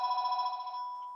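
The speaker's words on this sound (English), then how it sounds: "somebody didn't turn the phone off." A phone rings in a room with a short, warbling electronic trill, fairly faint and alone, fading after about a second.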